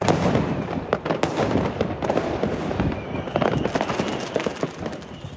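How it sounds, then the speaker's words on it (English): Fireworks in Schiedam, heard from a bedroom window: a steady, dense crackle of distant bursts and pops rolls on without pause, with a few sharper bangs standing out. "And then this is the fireworks from our bedroom window in Schiedam."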